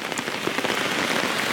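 Steady rain pelting down on a wet day near the water, a dense, even hiss of drops close by with no voices.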